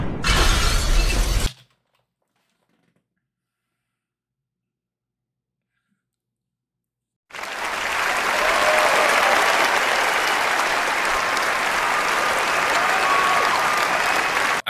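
Sustained, dense clapping rolls on for about seven seconds after a long stretch of silence, preceded by a short, loud noisy burst at the very start.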